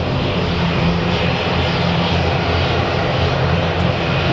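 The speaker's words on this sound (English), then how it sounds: "this is an ATR 72-500 going to Newquay, operated by DAT" ATR 72-500 turboprop airliner at Manchester Airport, a loud, steady, close engine roar with a broad rushing drone, continuous and with no voices.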